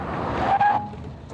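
A Kia Amanti brakes hard from 100 km/h with anti-lock brakes, giving a brief tire squeal over road rush that fades quickly after a second.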